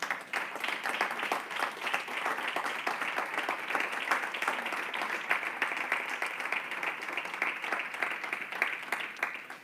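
Church congregation applauding at a Sunday service, a steady wash of many hands clapping at moderate distance, sustained without a break for the whole stretch with a faint murmur of voices underneath.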